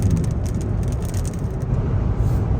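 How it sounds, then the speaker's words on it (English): Rivian R1T electric pickup cruising on Interstate 57, a steady loud rumble of road and wind noise inside the cab, with no talking. "Driving on Interstate 57"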